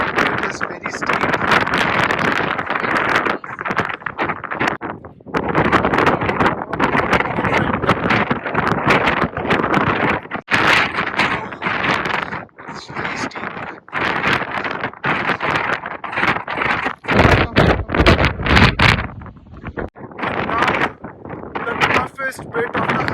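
Strong gusts on the steep climb to Scafell Pike, England's highest peak, roar and buffet the microphone almost without a break, loud and close, with brief lulls and people talking now and then under the wind.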